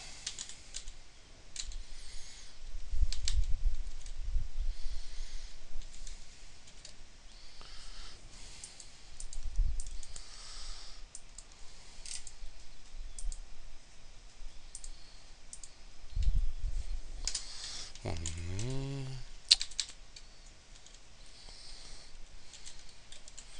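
Keys tapped on a computer keyboard to enter an access code, scattered soft clicks in short bursts with pauses, faint and close, alongside occasional mouse clicks.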